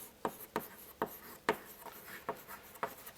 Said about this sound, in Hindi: यहां पे मैंने लिखता हूं